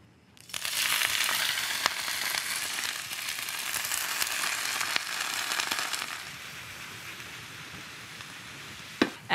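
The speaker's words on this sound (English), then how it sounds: "heat a tablespoon of olive oil in the skillet. Add your beautifully blanched broccoli rabe." Blanched broccoli rabe hitting hot olive oil in a skillet, a sudden loud hiss that settles into a steady sizzle for several seconds, then eases off, with a few light clinks near the end.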